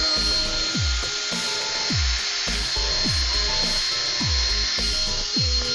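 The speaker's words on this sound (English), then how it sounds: "I'm holding one hand on my drill, and that's all I'm using." A hand-held drill twists wire into fused clapton coils, running continuously with a steady high whine and a regular rhythmic pulse and clicking repeated roughly every second.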